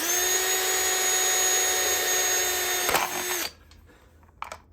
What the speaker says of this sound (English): Something I like to do is drill into some plastic because it's really easy to drill through.